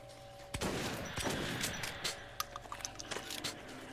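Shotgun gunfire in the video game Metro Last Light, a loud close blast followed by several quicker, lighter shots and impacts in a short burst.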